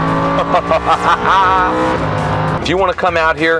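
A Lamborghini Huracan engine on a racetrack, its loud revving roar rising and falling beneath continuous close talking.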